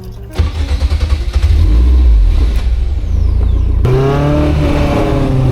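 A Caterham 340S sports car engine fires and revs hard close by, loud rising and falling bursts of throttle with a short break before a second rev, no one speaking.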